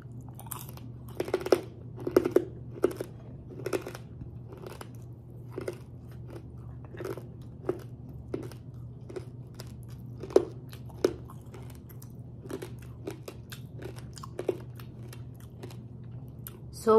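Someone chews crunchy fried pork chicharon up close, with sharp, irregular bites and crackling crunches every second or so over a faint steady hum, no talk.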